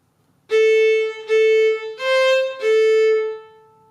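A violin plays four clear bowed notes in a row, the third slightly higher, each ringing close and bright with short breaks between them.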